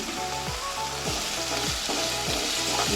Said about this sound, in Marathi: आता आपण या स्टेजला दोन चमचे हिंग घालूया